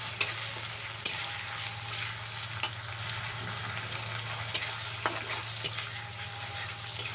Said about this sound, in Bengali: এটাকে হালকা ভেজে নেবে